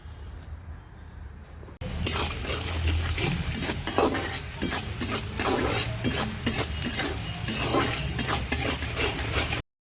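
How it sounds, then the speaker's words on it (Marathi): Onions frying with salt in a pan on a wood-fired stove, producing a loud continuous sizzle with scraping stir strokes that starts after a quieter opening and cuts off abruptly near the end. "थोडंसं मीठ घालणार आहे म्हणजे कांदा लवकर फ्राय होईल"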